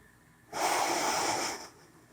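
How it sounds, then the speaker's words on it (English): One long, deep breath drawn audibly through the nose during a yoga pose, lasting about a second, close and clear against a quiet room. "Take one more breath."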